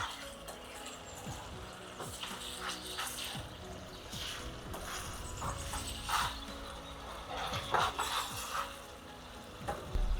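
Chicken curry base frying in a pan, a steady low sizzle with scraping stir strokes and occasional brighter clinks, fairly close and moderately loud, with no talking.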